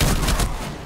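Gunfire from Rainbow Six Siege, likely a UMP with ACOG, rings out as a quick burst of loud, close shots that cut off halfway and leave a fading tail.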